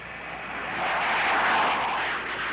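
A U-2 reconnaissance spy plane flying overhead, its engine a broad steady roar that swells toward the middle and eases slightly, with no talking.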